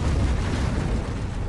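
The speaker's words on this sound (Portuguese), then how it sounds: "Ele acredita que uma pequena erupção deu início à explosão de Tunguska." A dramatized Tunguska explosion set off by a small eruption in Siberia, a loud sustained roaring rumble that fills the whole short stretch with dense, heavy noise and no voices.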